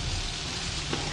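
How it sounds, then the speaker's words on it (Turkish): Steady hissing rain in the horror game Outlast, a dense, even wash of droplets with no pauses, fairly loud and alone. "Bu nasıl yağmur ya? Bura niye yağmur yağıyor?"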